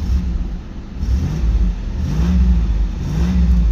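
A Pontiac Trans Am engine revs to about 1500 rpm, throaty and close. It rises and falls in a few swelling surges over a steady low rumble, with no voices.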